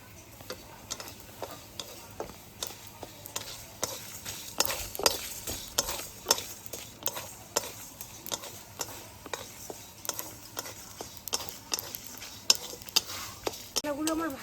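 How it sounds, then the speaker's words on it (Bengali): Spices for a raw green mango pickle frying in a pan, stirred with a steady rhythm of clear utensil taps and scrapes over a soft, continuous sizzle, close and fairly quiet. "মশলাগুলো আমার ভালো করে ভাজা হয়ে গেছে"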